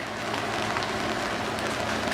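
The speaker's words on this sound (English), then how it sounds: "it started raining" Steady rain hisses down outdoors as a broad, even wash of noise, fairly loud and constant, with no voices over it.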